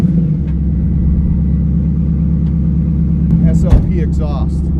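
A car with an SLP exhaust idles with a loud, deep, steady rumble, close by, and a brief throttle blip stands out near the end.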